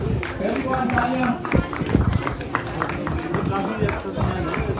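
An audience at an annual function claps as a name is called, with busy, uneven applause mixed with chatter and crowd babble in a lively indoor room.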